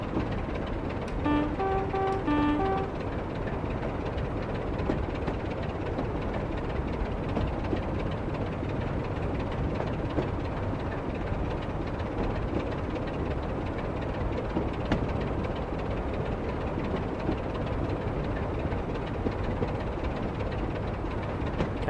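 A Class 24 diesel locomotive in Train Simulator Classic rumbles steadily along the line, with a continuous engine drone and rolling rail noise that stays even throughout. A brief horn-like tone sounds near the start.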